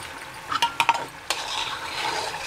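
A pan of buffalo butter boiling for ghee sizzles and bubbles steadily as a utensil scrapes and clinks against it a few times, close up with no talking.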